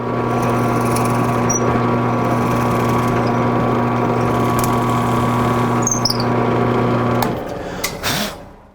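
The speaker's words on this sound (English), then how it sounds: "the first thing we're going to do is to drill a hole for a worm screw" A drill boring a worm-screw hole in spalted maple gives a steady, loud motor whine with strong tonal hum for about seven seconds, then cuts off abruptly, leaving a brief clatter.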